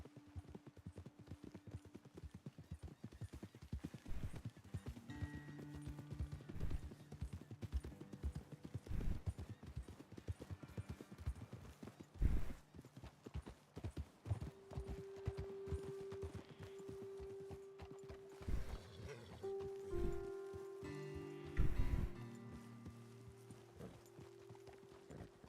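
Horses in the Red Dead Redemption video game clip-clop along in a fast, rhythmic gallop, hooves drumming steadily and fairly close, with a snort or whinny and soft background tones mixed in.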